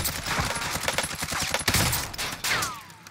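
Rapid bursts of automatic gunfire crackle in the video game Warzone, dense overlapping shots from several weapons close and loud, with a brief lull before another volley near the end.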